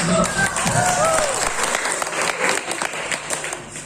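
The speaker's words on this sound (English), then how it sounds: "Once again, big applause." An audience at an English presentation competition at a school claps and applauds steadily, a dense wash of hand claps filling the whole stretch without pause.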